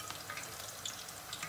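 Eggplant frying in a pan, with a steady, close sizzle and faint crackle running throughout at a low level, with no talking.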